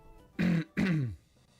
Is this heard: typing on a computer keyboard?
no